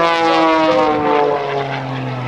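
Patty Wagstaff's aerobatic propeller plane drones loudly at the 2005 NAS Patuxent River air show, a harsh steady engine buzz whose pitch slides downward as it passes close by.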